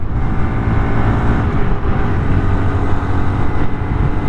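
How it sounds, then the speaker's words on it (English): A 2025 Honda Monkey motorcycle held at full throttle on a road ride, its engine droning loud and steady up toward 50 mph, with heavy wind rumble throughout. "I'm holding the throttle all the way right now."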